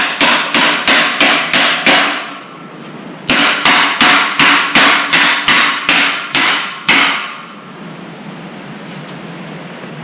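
A hammer taps a metal piece into place while a corral gate is being repaired. The blows are loud, close and evenly paced, landing in two quick runs of about seven strikes each with a short pause between, and nobody talks.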